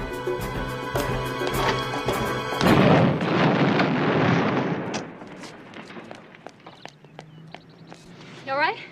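A loud bomb explosion bursts after frantic noise, its heavy rumbling roar and debris lasting a couple of seconds before fading into scattered clatter and lingering ringing.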